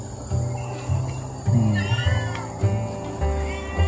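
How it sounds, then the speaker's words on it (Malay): Cats in an animal shelter's recovery area give several low, drawn-out meows in irregular succession, fairly close, over a faint background hum. "Semua kat sini kucing-kucing yang ada."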